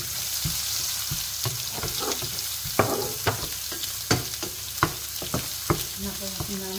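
Ground onion and garlic fry in a pan in an apartment kitchen with a steady sizzle, broken by sharp clacks of a utensil stirring and scraping at irregular intervals.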